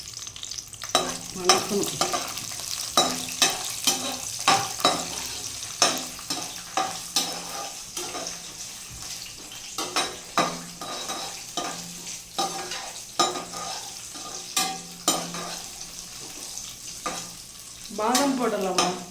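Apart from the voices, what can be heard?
raisins and cashews frying and stirred in ghee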